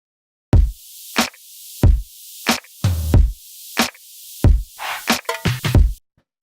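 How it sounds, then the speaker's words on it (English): An electronic drum beat plays alone: steady kicks and snappy snares with a hissy hi-hat layer, a few quick fills near the end, then it stops. "So the drums on their own sound like this."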